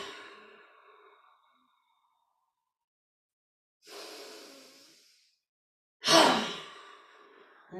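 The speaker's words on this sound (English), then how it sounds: "Inhale, and then all the breath out through the mouth. Deep bellows breath." Deep bellows breathing during hatha yoga, with three forceful exhales out through the mouth, each a breathy rush that fades away, spaced a few seconds apart. The last is the loudest and closest, and no one speaks.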